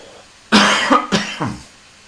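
Two sharp coughs in quick succession, close and loud, with no talking around them.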